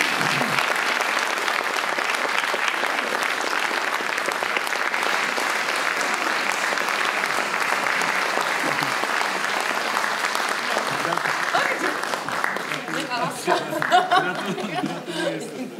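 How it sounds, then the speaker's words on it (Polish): Sustained audience applause fills an award ceremony at a comedy theatre festival, dense and steady for most of the stretch, with scattered chuckles and crowd murmur breaking through as the clapping thins toward the end. "Proszę nie ustawać w oklaskach."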